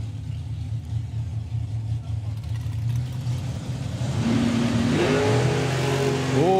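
A dragster launches at a drag racing meet, Greenlight Nationals 2025, with an engine rumbling at a distance that then swells into a loud, climbing rev near the end; a voice is faintly present underneath.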